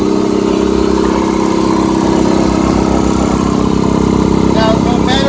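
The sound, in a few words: air compressor running with its fan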